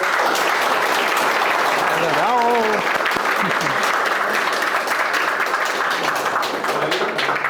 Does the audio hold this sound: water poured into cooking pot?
no